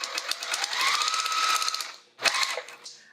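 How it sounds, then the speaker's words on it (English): A sewing machine stitches quilting lines on fabric for a quilted pouch, a rapid mechanical whir running for about two seconds, pausing, then resuming briefly. "I'm going to do a couple of stitches and then I'm going to do a back stitch."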